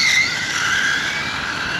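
Traxxas Rustler RC car fitted with a Sidewinder 3 system launching, a loud close high-pitched whine of motor and spinning tires that squeals briefly and holds steady.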